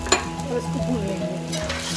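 Chickpeas and spices for channa tarkari sizzle steadily in a hot pan while a spoon stirs and scrapes through them, close and continuous with no talk.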